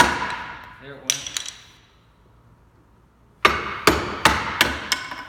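A mallet strikes a chisel while chopping out a cross lap joint in wood: a few sharp knocks, a quiet pause, then five evenly spaced loud whacks, each ringing briefly.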